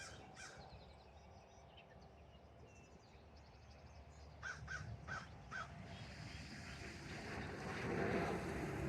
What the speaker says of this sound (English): The crows are up, the other birds are up